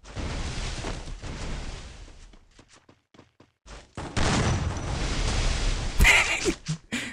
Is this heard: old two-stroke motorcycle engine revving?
no